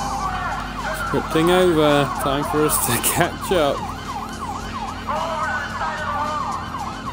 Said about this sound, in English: I've got three different types of siren to entertain me.